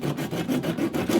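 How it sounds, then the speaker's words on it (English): A hand wood saw rasps back and forth through a rubber heater hose on a 1HD-T engine in a 6x6 Land Cruiser 80, with quick, rhythmic strokes close by. "wood saws cut through it like butter"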